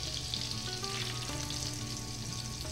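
Egg-washed chicken cutlets for chicken Francese sizzle steadily in hot grease in a pan, a dense continuous crackle and hiss at moderate volume with no voices.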